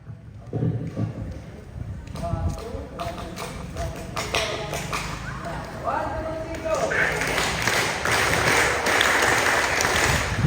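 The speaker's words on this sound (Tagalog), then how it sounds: "pag sinabi natin club or palakpak ng Boy Scout, tatandaan nyo, yan yung club natin" Boy Scouts performing their patterned group clap at an annual investiture, with bursts of rhythmic clapping building into sustained applause, mixed with talk and crowd noise.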